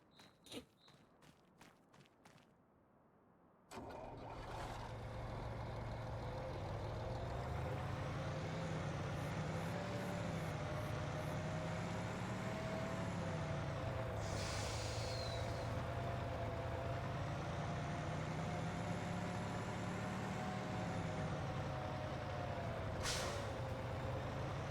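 Dump truck in Farming Simulator 25 with a steady engine drone and hiss of air brakes, preceded by a few short footstep-like taps, the engine rising and falling in pitch as it runs continuously and close.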